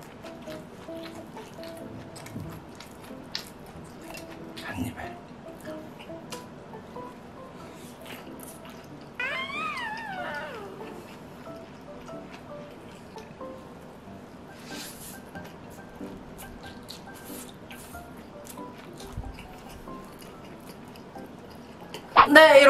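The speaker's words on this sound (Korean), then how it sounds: "이렇게 초간단하게 김치전을 만들어서 먹어봤는데" Close, wet chewing sounds of someone eating a homemade kimchi pancake with canned ham, soft and steady, with occasional smacks, under a low background hum and a few short noises.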